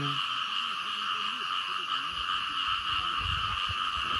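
Asian painted frogs, narrow-mouthed toads, calling outdoors after rain in a rural morning setting: a dense, continuous chorus of droning croaks blends with high insect-like buzzing, steady and moderately loud, with a few low thumps near the end.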